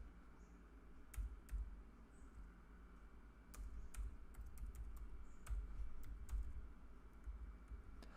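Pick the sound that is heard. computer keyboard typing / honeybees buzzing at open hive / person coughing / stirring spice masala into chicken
computer keyboard typing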